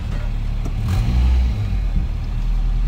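A Nissan S14 on its first drive after a manual transmission swap, its engine a steady, close low drone that swells briefly near the middle as it pulls away, with no talking.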